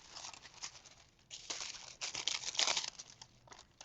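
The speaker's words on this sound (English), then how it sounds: "go back where I missed and just go ahead and rub some more of the Fabri-Tac on there and get that foil on there" Foil being rubbed onto a glued paper tag, producing close crinkly rustling in uneven bursts that grow louder and busier toward the middle before easing off.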